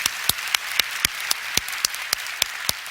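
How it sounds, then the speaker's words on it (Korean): A church congregation at a prayer meeting claps in unison, about eleven loud, evenly spaced beats standing out above a continuous wash of crowd noise. "박수 한번 하시죠."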